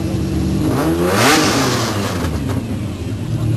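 A Lamborghini Diablo engine revs up loudly, rising to a peak and then settling into a steady, rumbling drone, close by with no talking.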